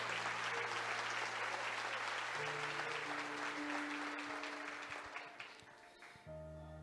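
A church congregation applauding together during a bishop's sermon, broad steady clapping over sustained held organ or keyboard tones, fading slightly toward the end.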